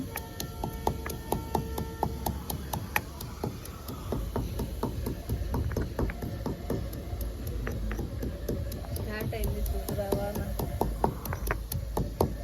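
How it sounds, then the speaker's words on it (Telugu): Ingredients for crab curry pounded with a pestle in a mortar: close, repeated dull thuds in a steady, uneven rhythm over a low background hum. "ఇలాగ బాగా దంచుకోవాలండి మెత్తగా అయ్యే వరకు."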